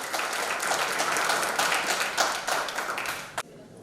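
An audience at a leadership training event in Rampur claps loudly, a dense run of applause that keeps going for a few seconds and then stops abruptly.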